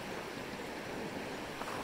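Waves washing against the shore, a continuous broadband rush of water at moderate level with no clear breaks, and wind mixed in.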